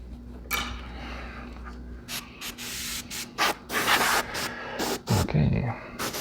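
Short bursts of an airbrush hiss in and out, spraying very thin paint for highlights on a BattleTech miniature of the Davion Brigade of Guards, several brief passes of varying length with a steady low hum underneath.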